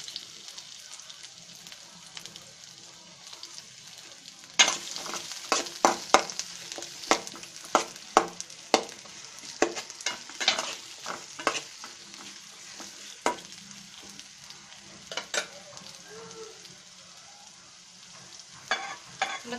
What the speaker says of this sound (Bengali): আমাদের পেঁয়াজ রসুন আমরা ভাজতে দিয়ে দেব।